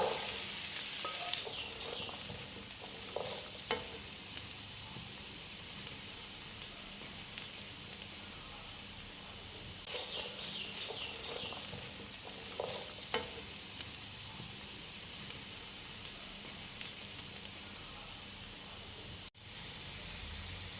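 Shallots, onions, ginger, garlic, curry leaves and green chillies sauté in oil for karimeen pollichathu, a continuous close sizzle with recurring bursts of stirring and scraping in the pan.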